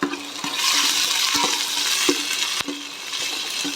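Ginger garlic paste frying in a pan, a continuous bright sizzle with several sharp knocks and scrapes of a utensil stirring it, fairly close and with no talking.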